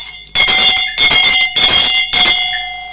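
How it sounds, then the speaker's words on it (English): A loud bell on a sports panorama show rings in four strong bursts, each shrill clang sustained for about half a second with brief gaps between, ringing out alone without talk. "I want to say the legendary bell"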